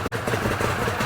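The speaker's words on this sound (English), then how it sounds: "they have a bit of a crazy idle" A 2014 Arctic Cat Wildcat 1000X side-by-side with an offset-angle V-twin that runs rich idles steadily up close, a loud, continuous low rumble with an uneven, loping beat after a very brief dip at the start.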